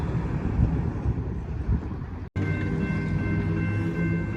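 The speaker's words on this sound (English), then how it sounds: "here comes the locomotive that pushed that train up the hill" A railroad locomotive, the helper engine that pushed a train up a grade, rolls back down the hill, a steady near rumble with wind buffeting the microphone and a brief dropout midway before a droning tone resumes.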